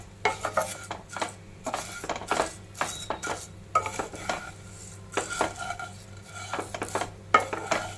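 Vermicelli roasting in ghee in a pan for a sweet seviyan dish, a metal spoon scraping and clinking against the pan in quick irregular strokes over a faint low hum, close and fairly quiet.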